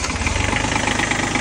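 A diesel engine idles after a restart with 100 grams of diesel added, a loud, close, even rumble with a steady rapid knock and no break in the sound.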